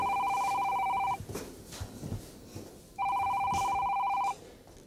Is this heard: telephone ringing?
yes